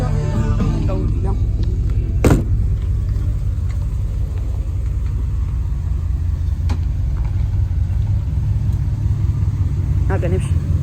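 A car engine idles with a steady low rumble as the car is parked at home, with people talking over it and a few brief knocks.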